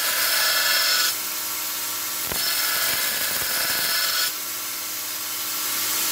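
Knife blades of 80CRV2 steel being ground thin on a grinder, a continuous loud abrasive hiss and rasp that shifts in pitch as pressure changes, close by with no talking.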